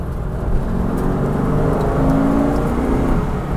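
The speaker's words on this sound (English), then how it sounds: "give it a rev, off the brakes, turn in" Race car engine blipped during a heel-and-toe downshift, a loud continuous revving whir that rises and falls over several seconds without talk.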